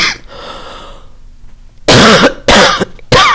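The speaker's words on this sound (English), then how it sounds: "Talking too much makes me cough a lot." Three harsh, loud coughs close by in quick succession, following a faint, quiet stretch.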